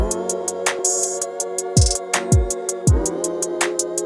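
A trap beat with bright hi-hat rolls and sustained melodic tones, punctuated by booming low kick drums from a poorly matched kick sample that land a little unevenly against the groove.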